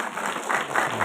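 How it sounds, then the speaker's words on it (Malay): Brief burst of audience clapping at a leadership seminar, a dense, even patter of many hands heard at moderate level with no voices over it. "Satu tepukan untuk anda."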